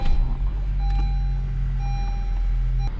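A 2017-2022 Honda CR-V sits in reverse gear with its engine idling, a steady low hum under a faint, evenly repeating reversing beep heard at close range.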